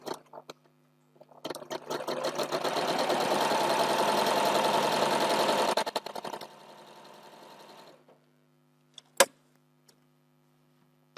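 A sewing machine stitching together pieces of 4-patch quilt blocks under the presser foot: a rapid, whirring mechanical rattle that runs steadily for several seconds, slows into a softer stretch and stops, followed by a few faint clicks in near silence.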